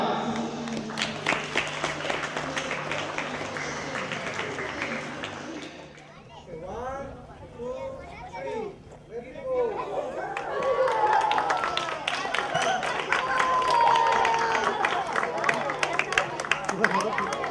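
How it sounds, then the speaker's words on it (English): An audience at a public launch event for sustainable, child-friendly municipalities in Belize claps steadily, with crowd chatter and children's voices. The clapping fades briefly and then swells again. "so I guess we should give a round of applause"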